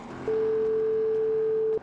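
A single steady electronic tone sounds for about a second and a half, clear and loud above faint background hum, as a phone call fails to go through in the video game GTA 5.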